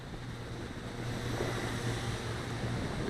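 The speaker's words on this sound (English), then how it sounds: "Very gusty, coming and going, but it's not having much effect at all on the quad." Gusty wind rushing outdoors during a Blade 200QX quadcopter flight, a steady broadband roar of wind buffeting the microphone with a low hum running underneath, continuous and fairly loud throughout.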